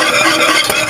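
Heavy cream with vanilla and sugar is stirred briskly for chocolate sauce, a continuous soft swishing and scraping close by with no talk.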